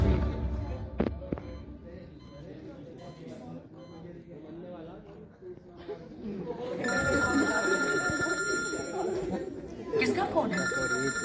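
A telephone rings with a bright repeating electronic tone that rises out of indoor chatter and background noise, sounding close and persistent toward the end.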